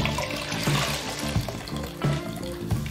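A wet towel gently squeezed over a basin of water, close and fairly loud, with a steady splashing trickle and a few brief surges as water runs off the cloth.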